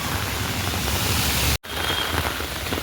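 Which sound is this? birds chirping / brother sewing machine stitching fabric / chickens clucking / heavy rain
heavy rain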